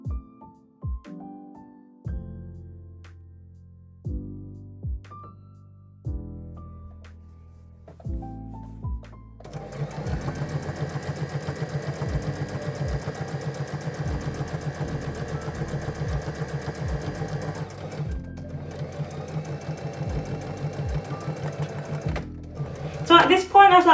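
Sewing machine stitching African print fabric, first a few short start-stop bursts with pauses, then a long continuous rapid whir of stitching, a brief stop, and more steady running, close and clear.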